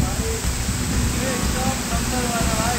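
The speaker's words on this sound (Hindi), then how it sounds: "एक बहुत ही खूबसूरत झरना मिला है हमें" A mountain waterfall rushes with a dense, steady hiss of falling water, loud and constant throughout. A faint voice is heard beneath it.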